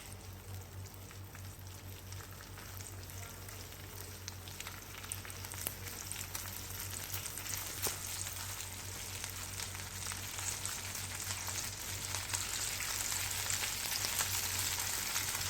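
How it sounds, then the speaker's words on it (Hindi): Chopped garlic browning in oil in a pan over a medium-to-low flame for a chicken bread pizza on a tawa, giving a steady, even sizzle that grows slightly louder throughout, with no talk. "अब इसको आप हल्का सा ब्राउन कर लें कि इसका कच्चापन ख़त्म हो जाए।"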